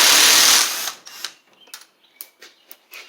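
Ratchet working on 8mm nuts holding the carburetor of a Stihl FS38 string trimmer, a loud burst of noise followed by a run of quick, sharp clicks close by.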